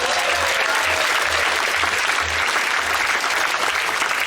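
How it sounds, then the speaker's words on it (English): Sustained, dense applause from a cruise ship audience for the galley crew fills the space at steady volume, with a faint rhythmic low thumping underneath. "Keep the applause going. Round of applause"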